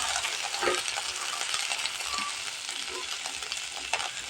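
Onions sautéing in a pan ahead of drumstick flowers, a dense continuous sizzle with faint scraping and stirring, close and fairly quiet, no voices.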